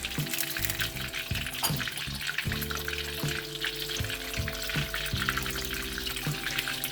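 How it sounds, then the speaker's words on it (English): Jalapenos frying in hot oil give a continuous crackling sizzle up close, with bursts of bubbling and occasional clinks from stirring over a steady background hum. "You will want to cook your jalapenos at least for 4 minutes or until light golden brown."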